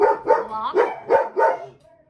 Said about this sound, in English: You can hear my dogs in the background.